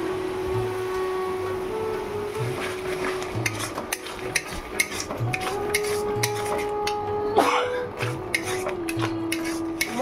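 A spoon stirring and scraping spice masala frying with yogurt in a pan, with soft irregular clinks and taps over a steady low sizzle and background hum.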